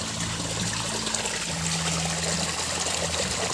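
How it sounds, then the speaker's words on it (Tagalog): Water gushes steadily under pressure as a tilapia fishpond is drained, a continuous loud rushing flow with no pauses. "tara kita ninyo ang pag-ugpot sa tubig na, kusog kaya ang pressure"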